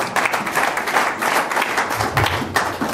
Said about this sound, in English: Clap offering for yourself.